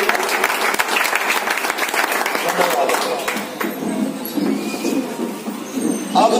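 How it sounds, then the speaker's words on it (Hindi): An audience at an award ceremony honouring a Sahara India Pariwar worker claps loudly, the applause dense at first and thinning toward the end, with some background voices mixed in. "जोरदार तालियां बजाएं"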